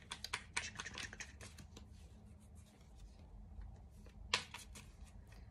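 A tarot deck is shuffled and cards are pulled, making a close, faint series of crisp riffling and rubbing bursts, a pause, then another sharp card flick.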